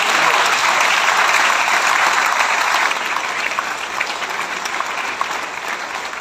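Loud, sustained applause from an audience at a Hari Katha kirtan gathering in Holland, a dense steady wash of many hands clapping that eases slightly in volume partway through.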